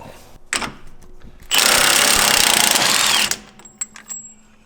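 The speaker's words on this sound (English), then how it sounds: "we're going to go ahead and put our 1 1/4 inch socket on our impact wrench. We're going to go ahead and remove the pinion nut" Impact wrench fitted with a 1 1/4 inch socket hammers off a pinion nut on a Jeep JL axle, one loud sustained rattling burst of just under two seconds, framed by quieter clicks and handling noises.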